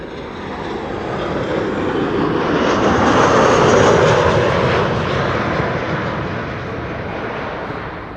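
A KLM Boeing 737-700 jet arriving at Amsterdam Schiphol, its engine roar swelling as it passes close overhead and then slowly fading, loud and continuous with no talking.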